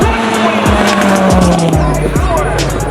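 A front-wheel-drive time-attack race car blasts past on a timed lap at Road Atlanta, its loud engine sweeping up and down through gear changes with a brief tire squeal, under an excited commentator's voice.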